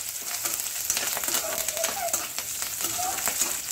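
Curry leaves and two dried red chillies fry in hot oil with a steady bright crackling sizzle, moderately close, with scattered pops throughout.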